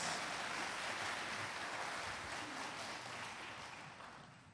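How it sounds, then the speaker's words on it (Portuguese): A church congregation breaks into applause for God during a sermon, a dense wash of clapping from a large crowd that fades gradually toward the end. "Dê uma salva de palmas a esse Deus que tudo faz por nós"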